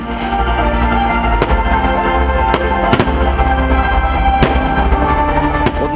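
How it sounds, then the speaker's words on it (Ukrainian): Fireworks boom and crackle nearby at a Miners' Day celebration closing a concert, with several sharp bursts spaced irregularly over a steady roar of distant explosions. "Виступом дівчат та феєрверком концертна програма була завершена"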